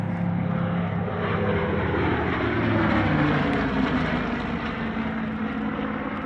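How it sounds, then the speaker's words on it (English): A Spitfire Mark 8 and a Hurricane Mark 12, both vintage piston-engined warbirds, pass over an airshow in the Hunter Valley. Their propeller engines drone loud and steady, with a slowly shifting pitch as they fly by. "A pair of Warbirds now, the Temora Aviation Museum's Spitfire Mark 8 and Pays Aviation's Hurricane Mark 12"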